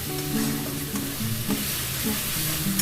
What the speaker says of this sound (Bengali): হলুদ, সবগুলো একসাথে ভালোভাবে কষিয়ে নেব। খুব ভালো করে কষিয়ে নেবেন